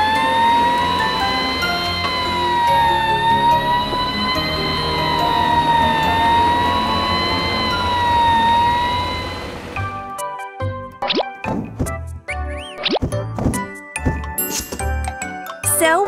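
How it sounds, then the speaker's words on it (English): A cartoon fire truck siren wails steadily for about ten seconds, loud and rising and falling, then gives way to a burst of short plopping and popping cartoon effects. "Fire truck."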